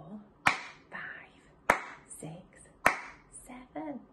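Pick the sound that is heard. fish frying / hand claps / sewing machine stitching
hand claps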